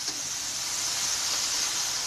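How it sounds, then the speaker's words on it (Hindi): Kashmiri pink tea boils up in a pot after soda is added, giving a steady, close, broadband hiss and fizz without a break. "जैसे ही हम सोडा डालते हैं तो ये उबलने लग जाती है"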